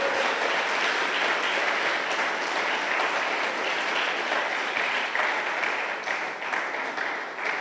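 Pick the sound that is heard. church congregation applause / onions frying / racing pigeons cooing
church congregation applause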